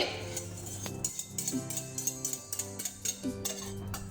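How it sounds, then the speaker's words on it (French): A utensil mixing financier batter in a bowl, giving repeated light metallic clinks and scrapes in an irregular rhythm, close and fairly quiet. "Donc on mélange bien."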